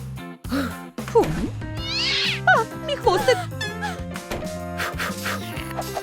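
A cat meows repeatedly in a video game about a cat escaping Mommy and Daddy Long Legs, with several drawn-out, rising and falling cries set against steady game music and other in-game sounds.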